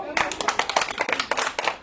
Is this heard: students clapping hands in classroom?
yes